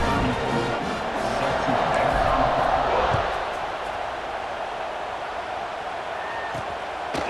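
Crowd cheering in the EA Sports College Football 26 video game as the home team leads 20-0, a broad, loud stadium roar that swells for the first three seconds then settles into a steady background wash.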